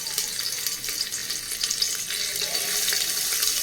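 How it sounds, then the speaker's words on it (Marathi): Chopped onion frying in hot oil for a vegetable biryani, a steady close crackling sizzle that runs without a break, slightly louder toward the end. "तेल गरम झाले, यामध्ये आता मी कांदा ॲड करत आहे"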